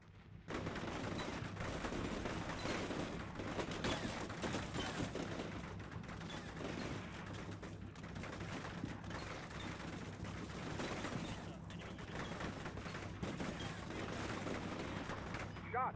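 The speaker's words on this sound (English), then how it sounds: "A firefight erupts between Red Force in the row houses and the Blue Force in the multi-story buildings" Sustained gunfire from a firefight in Combat Mission Cold War, with Red Force in row houses and Blue Force in multi-story buildings trading shots; dense, continuous crackle and booms fill the whole stretch at steady loudness.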